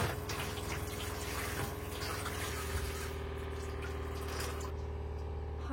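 Water pump in the plumbing of a converted camper van sputtering and gurgling with air in the lines, a loud continuous rush of water and pump hum that cuts off abruptly near the end.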